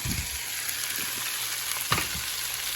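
Parmesan shrimp sauce with butter sizzles steadily in a pan while cheese is stirred in, with soft clinks and scrapes from the spoon at close range and no voices.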